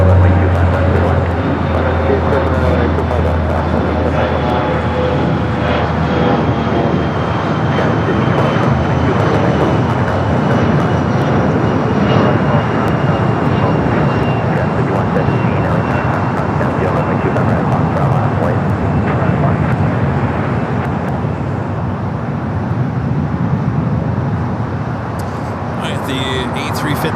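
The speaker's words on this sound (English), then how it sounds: "Should have a south side takeoff coming up." An airliner taking off from the south side runways at LAX, a loud, continuous jet engine roar filling the whole span, with radio-style talk in the background.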